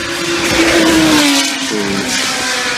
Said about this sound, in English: a lot of cars coming under the bridge on times